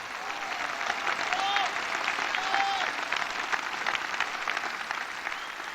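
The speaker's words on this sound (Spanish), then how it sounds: "un aplauso a la Virgen de Luján" A church congregation applauds the Virgin of Luján at a Catholic gathering, sustained crowd clapping at moderate distance with a few faint voices rising through it.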